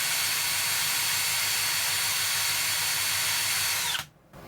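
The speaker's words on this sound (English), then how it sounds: "this drill is rated at 1500 RPMs. So let's just see if we can get our 1500 out of it" A vintage 1950s Milwaukee Hole Shooter HS-114 quarter-inch heavy-duty electric drill runs steadily at full speed with a loud, continuous motor whine and hiss that cuts off abruptly near the end.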